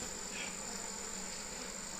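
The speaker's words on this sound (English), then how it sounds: "The bees don't like the cameras." Honey bees swarm around an opened hive during a late-summer frame inspection, giving a steady, close, high-pitched buzzing hum that holds unbroken throughout.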